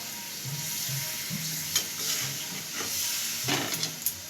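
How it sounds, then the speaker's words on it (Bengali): Water poured into a pan of fried vegetables brings a steady hissing sizzle with occasional clinks and light scraping of a utensil, close and continuous with no talking. "একটু জল দেবো জল দিয়ে সবজিটাকে একটু সেদ্ধ করতে দেবো"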